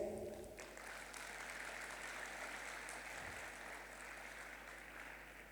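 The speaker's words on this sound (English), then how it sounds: "Round of applause, please." Audience applause at an economic cooperation forum, a steady, distant wash of clapping that carries on evenly, with no talk over it.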